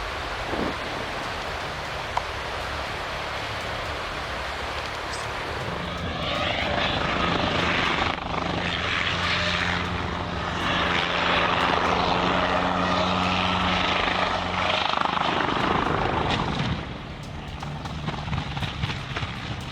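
A multi-ton airplane lands and slides along asphalt, heard as a loud, broad engine roar and rushing noise that swells after a few seconds, holds steady, then drops off near the end, with no talk.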